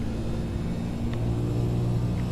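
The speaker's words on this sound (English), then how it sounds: "I've got a V8 supercar screaming in my ears" A V8 supercar in a racing game drones with a low, steady engine rumble, held at a fairly even pitch with a faint tonal whine over it, moderately quiet and without speech.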